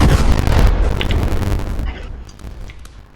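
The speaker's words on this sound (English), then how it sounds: "Big explosion." A super heavy bomb exploding in the Minecraft Warium mod, a loud roaring blast with crackling debris that fades over about two seconds into a quieter rumble.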